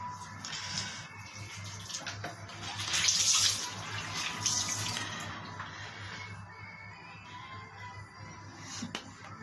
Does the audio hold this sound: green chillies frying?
no